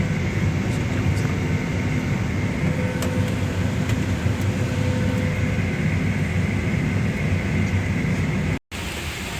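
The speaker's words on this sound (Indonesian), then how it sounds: "sekarang kita duduk dalam pesawat" Steady, loud broadband cabin drone inside a large double-deck passenger airliner, an unbroken engine and air hum with a brief dropout near the end.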